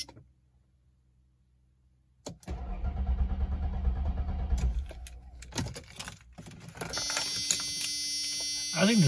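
Mercedes C36 AMG engine cranking on the starter without firing after a quiet pause, the sound close and loud, followed by clicks, keys and a high electrical whine from a car that may be out of fuel.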